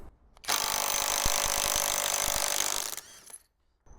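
An Ingco cordless 500 Nm impact wrench loosens a bolt torqued to 300 Nm, one loud sustained burst of hammering for about two and a half seconds before it winds down to quiet.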